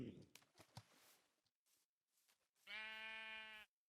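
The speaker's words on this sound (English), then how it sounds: "That sheep's still hanging out." A sheep bleats in a Minecraft-style modded crafting game, one sustained tonal bleat near the end after scattered quieter game noises and clicks; a voice comments earlier in the stretch.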